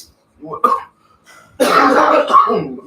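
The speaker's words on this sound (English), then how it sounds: "Coughing myself to death." A couple of harsh, close coughs, the second burst louder and longer, with a short pause between them.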